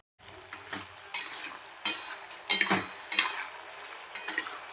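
Garlic fries gently over a low flame for pickle, with a soft steady sizzle. A spoon scrapes and clinks against the pan in about seven distinct stirring strokes.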